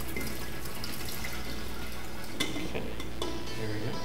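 Liquid is poured into a container during a biodiesel-making demonstration, giving a steady, continuous close splashing and trickling with no voices.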